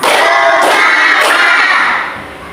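A classroom of students chanting loudly in unison during a spirit cheer, with a couple of sharp clap accents punctuating the group voices before the chant tapers off at the end.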